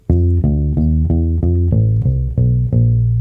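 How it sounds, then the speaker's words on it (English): Walking bass line on bass guitar, simplified rhythmically: about nine evenly spaced plucked notes in a steady pulse, close and clear with no talk. "that's a very common walking bass figure"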